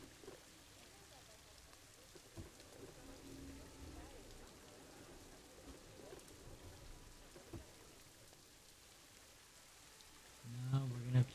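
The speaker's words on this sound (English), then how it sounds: "we don't get this much rain" Rain falling in the video game Planet Zoo, a steady soft hiss of drops on surfaces throughout, fairly faint, with a louder rumble at the very end.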